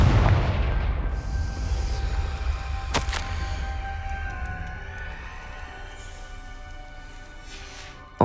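A Confringo blasting spell explodes in the video game Hogwarts Legacy. A loud, sharp crack is followed by a rumbling boom that slowly fades, and a second abrupt burst comes at the very end.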